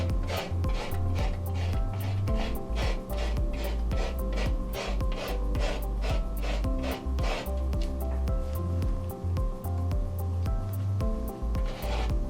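A stir stick scrapes chalk paste across a small transfer area in repeated short strokes, an even rhythmic rasping close to the listener with no speech.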